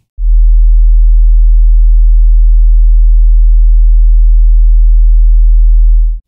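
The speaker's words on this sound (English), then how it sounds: "Let's start low with 40 hertz." A steady, very low 40 hertz sine tone hums continuously for about six seconds, loud and unchanging, starting and stopping cleanly.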